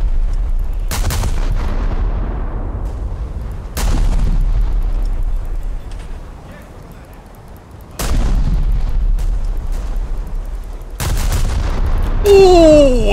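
Heavy naval guns fire in War Thunder, several loud deep booms spaced a few seconds apart, each with a long rumbling tail, and a brief whistling sweep near the end.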